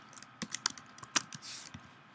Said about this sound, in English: I'm just going to keep typing and typing